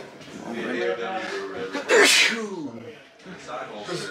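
A loud, sharp sneeze bursts out in the middle, surrounded by people talking before and after.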